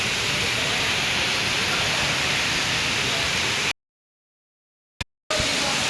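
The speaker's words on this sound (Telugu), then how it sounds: "ఫుల్ రైన్ పడుతుంది, చాలా బాగుంది," Heavy rain pours down steadily as a dense, loud hiss, then cuts off abruptly into silence with a brief click before the downpour resumes.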